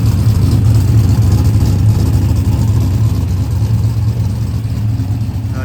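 A cammed 450 hp truck engine idles loud and close with an exhaust leak, a heavy, continuous low rumble with a choppy, uneven pulse and no voices.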